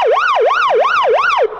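A police patrol car siren switched on inside the vehicle, loud and close, cycling through four fast up-and-down wails before cutting off abruptly, leaving a faint hum.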